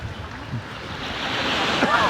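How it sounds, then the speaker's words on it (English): Ocean surf breaking along a coast with low waves, a steady wash and rising roar mixed with wind buffeting the microphone, close and fairly loud. "Now the waves are not that high."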